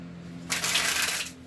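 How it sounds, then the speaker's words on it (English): A deck of tarot cards shuffled up close, one brisk riffle lasting under a second, breaking the quiet over a low steady hum. "I am shuffling about 3 more times."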